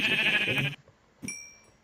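A Minecraft sheep bleats once, a loud wavering cry lasting under a second, followed by a brief quieter click and a short high tone.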